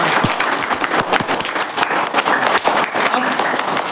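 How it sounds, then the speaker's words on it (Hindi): A class of students claps loudly together in a classroom, a burst of sharp, uneven hand claps that continues for several seconds. "एक बार जोरदार ताली सबके लिए"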